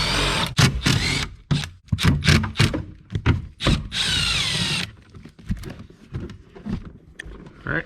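A power drill backs out screws beneath the glove box of an Audi S3/S4 cabin, several quick close whirring bursts followed by a longer run, then light clicks and handling noises.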